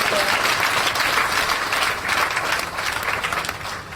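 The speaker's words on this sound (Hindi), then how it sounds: "आपने खुद के लिए एक बार ताली बजाओ यार" A short burst of audience applause at a talk about artificial intelligence, thick and fairly loud, with a few faint voices mixed in.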